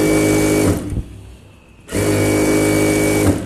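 Up close, a sewing machine stitches the rolled hem of a chudithar sleeve in two loud, rapid runs with a short pause between them.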